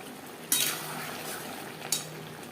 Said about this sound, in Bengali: মশলার সাথে পেঁয়াজও ক্যাপসিকাম নাড়াচাড়া করে নেবো